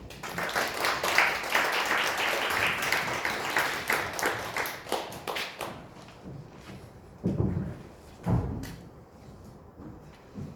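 Audience applause fills a hall at a Korean media management society talk concert as a company CEO guest is welcomed; dense clapping runs for about six seconds, then fades into a few scattered thuds and quieter room noise.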